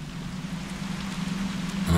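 Steady rain falls in a dark city in the video game Observer, a continuous soft hiss with a low hum beneath it, even and unbroken throughout.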